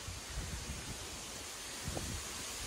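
Strong wind gusts through fall trees beside Douglas Dam in Sevierville, Tennessee, a steady broad rush with rustling leaves and some buffeting noise on the microphone.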